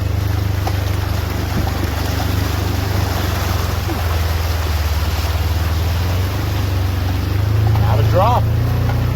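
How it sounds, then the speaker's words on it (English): Ranger utility vehicle fording a flooded creek after heavy rain, its engine droning loudly and steadily with water churning and sloshing around it, rising slightly near the end. "Getting ready to cross the creek here."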